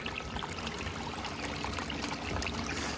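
Water rushing steadily through a running Gold Hog multi sluice, a constant dense wash and gurgle with a low pump-like rumble underneath, close and loud throughout.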